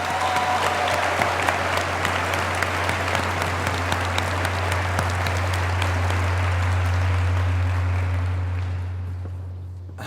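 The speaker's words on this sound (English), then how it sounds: "Another big round of applause, please." An audience at a school graduation ceremony applauds a student performance with sustained, dense clapping that fills the hall for the full duration before tapering slightly at the end.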